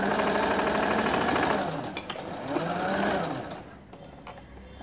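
A sewing machine stitches the curved crotch seam of straight-cut ladies' pants, a fast, close mechanical whir that runs steadily, then slows into short bursts and taps before trailing off.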